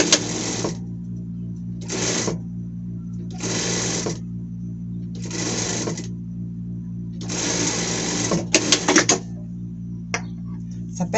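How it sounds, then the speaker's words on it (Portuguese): Sewing machine stitching the folded hem of a knit T-shirt sleeve, with five bursts of rapid mechanical whirring separated by short pauses, close and loud over a low steady hum, ending in a few clicks. "Dobramos aqui e passamos uma costura aqui para fazer a bainha."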